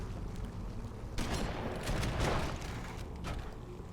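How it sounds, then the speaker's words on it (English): A frag grenade goes off in the Halo 2 video game, heard as a dense burst of blasts and gunfire. It rises out of a constant loud background of in-game noise. "Get them to walk over this frag grenade."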